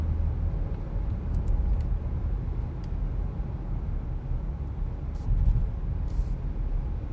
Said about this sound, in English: I'll just let you take a listen to the driving